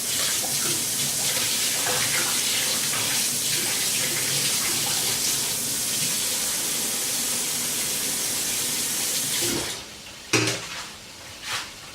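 A fork is rinsed under a running kitchen tap, with a steady rush of water and light clinks of metal against dishes in the sink, ending in a few louder clatters as the water stops.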